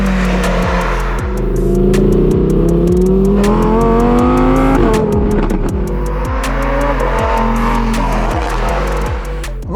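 A Lamborghini Huracan STO sports car is driven hard, its engine revving loud and close through rising and falling gears, with sharp crackles and pops between shifts, and no one speaking.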